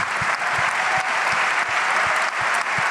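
A panel discussion audience at an academic event breaks into continuous, dense applause, loud and even throughout, with a few heavier claps or thumps standing out beneath the clapping.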